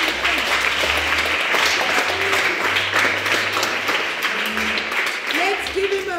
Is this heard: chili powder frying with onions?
no